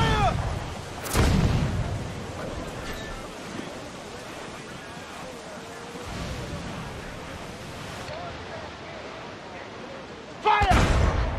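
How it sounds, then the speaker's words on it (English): Heavy booming ship cannon shots in Assassin's Creed: Freedom Cry, one early and one near the end, over a steady roar of stormy sea and wind with a lighter thud midway. "Cannon ready!"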